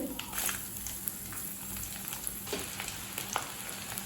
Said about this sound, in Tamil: சின்ன வெங்காயத்தை எண்ணெயில் நல்லா வதக்கிக்கலாங்க.